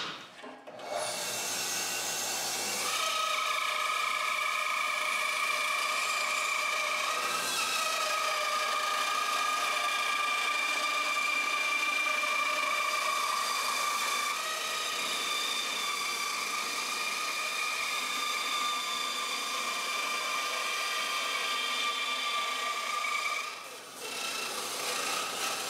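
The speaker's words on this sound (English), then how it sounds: "we're gonna cut this big section off, and the bandsaw is the ideal tool to do that" A bandsaw cuts through a large section of a wooden guitar neck blank, giving a steady high whine with a rasping edge that holds for over twenty seconds before stopping.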